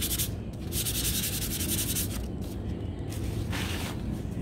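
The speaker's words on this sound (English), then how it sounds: "I did sand it very lightly, and I'm going to do it again." Light sanding on a painted wooden shiplap sign, a steady close scratchy rubbing with rhythmic back-and-forth strokes that swell and fade, heard alone without talk.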